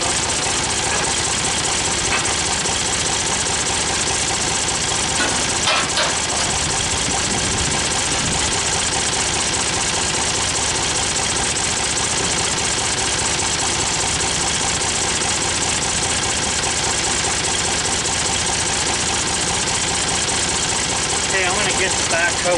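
A Wood-Mizer LT15 sawmill cutting nine-foot hemlock logs, with its engine running steadily and loudly throughout, a constant droning rumble that never lets up, close by outdoors.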